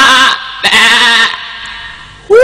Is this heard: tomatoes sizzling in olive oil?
no